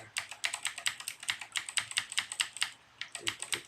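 Rapid, even taps on an iPad touchscreen keyboard come through as a steady string of light, close clicks, with one brief pause before the tapping carries on.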